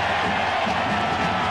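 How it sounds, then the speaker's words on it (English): Football stadium crowd at a 1997 Michigan at Wisconsin college game, a steady broad roar of cheering and whooping that stays loud and unbroken throughout. "And the crowd starting to come back to the game."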